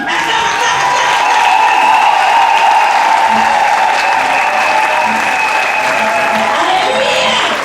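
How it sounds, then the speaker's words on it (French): A hall audience applauds and cheers for a girl being introduced at a church women's event, a loud sustained roar of clapping with raised voices and whoops blended in, continuous and close throughout. "Maintenant, tu vas acclamer pour notre fille"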